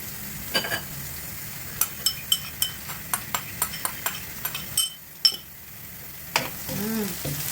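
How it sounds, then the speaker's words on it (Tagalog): Garlic browning in oil with onion added, for pancit canton guisado, sizzles softly in a pan under a run of sharp, regular spatula clinks against the metal, close and fairly quiet. "kapag nakikita nyo nagbabrown na yung garlic, pwede nyo nang ilagay yung sibuyas"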